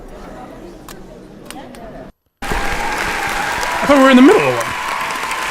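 Crowd cheers and applauds at a concert, played back from a recording; a dense roar of clapping and cheering rises after a brief gap and swells louder, with people talking over it nearby.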